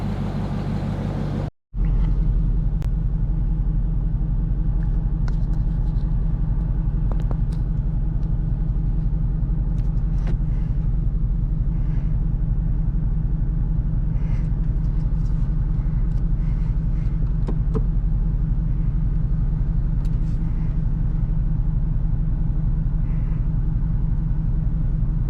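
Deep, steady engine rumble from a Dodge Charger on the move, heard from inside the cabin as a continuous low drone that stays loud and even throughout after a brief cut near the start.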